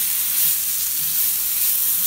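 Sausage sizzles steadily in a hot pan as it fries until brown, a constant bright crackling hiss with soft stirring movements underneath.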